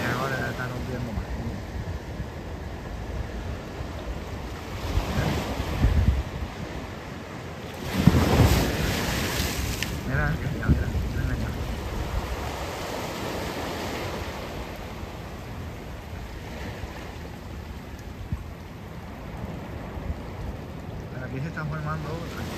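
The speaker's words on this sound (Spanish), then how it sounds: "Aquellas olas ya están rompiendo más." Steady roar of ocean surf at Guánica, Puerto Rico, from hurricane Beryl's remnants, waves crashing, one heavier break swelling up midway, all under constant wind rumble.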